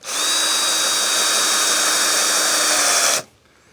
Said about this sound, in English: I'm just getting a few more screws put in